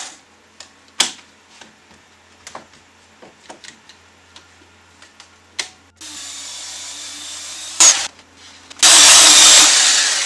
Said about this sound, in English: Yeah, time for some belt sanding.